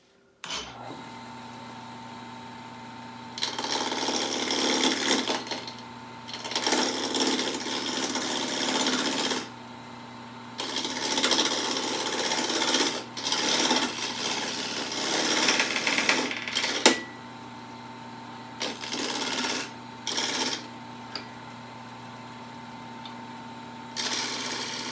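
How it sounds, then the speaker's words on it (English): A lathe parting tool cuts a tenon into the end of a workpiece, giving a steady grinding whine in repeated multi-second bursts separated by short pauses, with a constant motor hum underneath. "The first tool that we'll use is called a parting tool, and we're going to use that to establish the tenon on the end."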